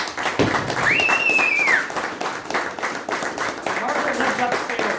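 An audience claps at an evening show after a thank-you, a fairly faint steady patter of hands with a voice whooping briefly near the start.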